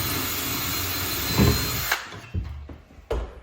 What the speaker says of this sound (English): drill our hole, make sure we're not gonna punch through the cabinet